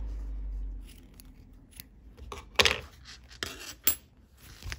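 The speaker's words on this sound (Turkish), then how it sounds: "Yine kesiyorum." Scissors snipping sewing thread up close, a few sharp metallic clicks and snips spread over a quiet, mostly still background with no talk.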